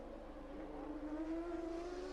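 A GP2 Supernova race car engine on a circuit, a faint, distant high-revving whine rising steadily in pitch as it passes.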